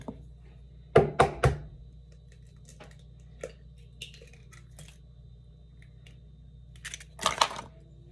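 Three eggs cracked and dropped into brownie batter in a mixing bowl, heard as a cluster of sharp taps and knocks early on, a few lighter clicks in the middle, then a final burst of cracking near the end, with no talking.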